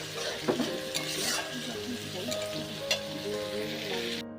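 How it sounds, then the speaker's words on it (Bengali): Sliced onions frying to a reddish brown in a pan for biryani, a steady close sizzle with the scrape and clink of stirring running throughout. "পেঁয়াজটাকে এ করে নিচ্ছি একটু লাল লাল করে ভেজে নিচ্ছি"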